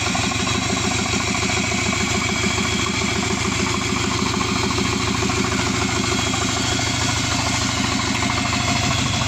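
A Subaru Forester SG9 EJ255 turbo engine runs on a stand, idling with a steady, even mechanical drone and rhythmic low pulsing, close and loud throughout with no voices.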